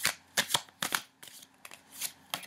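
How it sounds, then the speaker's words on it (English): Tarot cards shuffled by hand in several quick riffling bursts with short pauses between, close and fairly quiet, no talking. "I'm going to go ahead and give these cards a shuffle."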